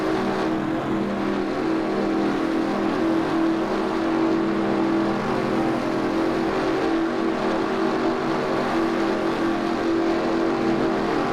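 Race cars lap an oval track in the NASCAR Racing 2003 sim at Orlando International Speedway, a dense, continuous engine roar from the lead pack that holds steady and loud for the whole stretch, with no talk over it.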